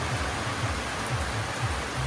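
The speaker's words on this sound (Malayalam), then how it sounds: "എല്ലാം പറയിക്കൊണ്ടിട്ട് കഴിഞ്ഞപ്പോൾ മഴയും പെയ്തു" Steady rain pours down as a dense, even hiss with a soft low rumble underneath, continuous and fairly loud throughout.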